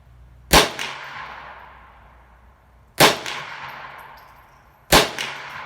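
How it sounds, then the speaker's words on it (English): Three sharp shots from a stainless Ruger 10/22 target rifle with a 20-inch hammer-forged barrel, firing Federal 36 grain hollow points at a 100-yard range, spaced a couple of seconds apart, each followed by a long decaying ring. "I shoot 5 at the 100-yard, kind of in a rapid fire, just to see how this stuff functions"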